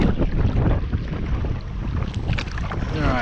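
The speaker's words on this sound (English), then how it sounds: "that wind is just absolutely blowing" Strong wind blows over a lake during bass fishing, roaring and buffeting the microphone in a loud continuous rush with faint splashing near the end.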